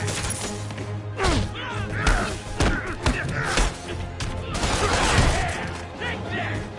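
Police gunfire in a Spider-Man video game: dense bursts of shots and thuds crowd a busy battle mix, with game voices shouting over the din.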